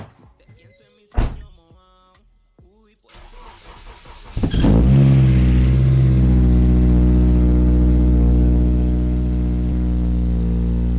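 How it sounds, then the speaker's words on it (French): A Honda Civic Type R cold-starts with a starter crank and catch, then settles into a loud, steady, close-up idle with a deep even drone; a voice speaks briefly before the engine fires. "vous allez assister au call start de ma Honda Civic"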